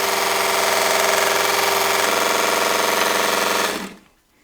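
A Temu mini belt sander grinder sanding corners gives a loud, steady motor whine with a fast rhythmic buzz, then spins down and cuts out near the end.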